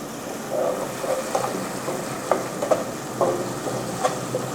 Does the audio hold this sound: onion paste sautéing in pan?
yes